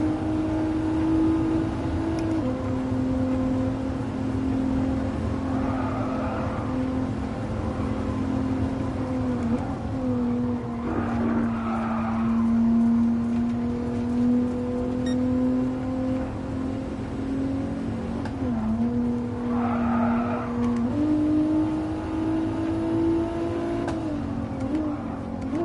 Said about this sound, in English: the sound of this freaking car and the game is, man, I love GT Sport.